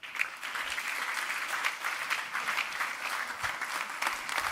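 Sustained audience applause at an energy security conference session, dense steady clapping filling the room from start to finish with no speech over it.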